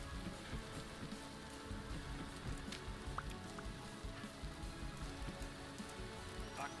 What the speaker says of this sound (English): It's raining in real life and it's raining out here.